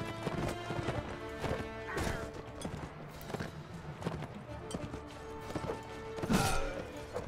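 Mounted units in Mount and Blade Warband gallop past, hooves clip-clopping in dense overlapping beats with horses whinnying, thuds and clashes of battle, and faint talk underneath.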